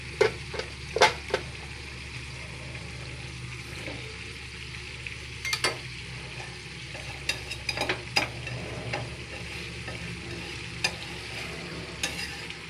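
Vegetables frying in a hot wok with a steady sizzle, interrupted by sharp scattered clinks and scrapes of stirring, close and moderately loud.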